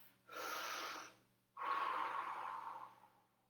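During a yoga session, a person takes two big breaths, each a long, breathy rush of air close to the microphone, the second longer and stronger, with quiet pauses around them.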